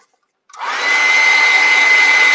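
A hair dryer blows on a watercolor painting of an illuminated letter N, switching on after a brief silence and then running as a loud, steady whirring rush with a constant whine.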